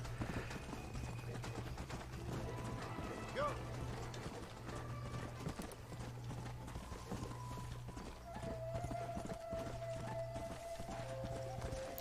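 Horse hooves clopping in the Red Dead Redemption video game, a steady trotting rhythm at moderate distance under a low hum and scattered game sounds, with faint talk in the background.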